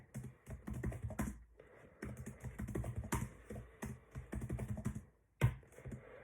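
Loan figures typed into Microsoft Excel on a computer keyboard: quick, close bursts of light key clicks with short pauses between words, faint and alone with no talk.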